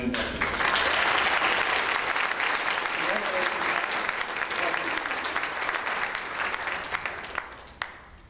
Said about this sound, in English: Let's have one more round of applause for our new inductees